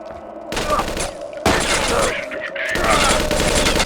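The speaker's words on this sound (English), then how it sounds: "Sniper rifle seems like it kind of sucks." Sniper rifle gunfire from the sci-fi shooter game Vivisector: Beast Within, with loud overlapping shots and booming blasts in dense bursts and sustained rattling fire, close and intense throughout.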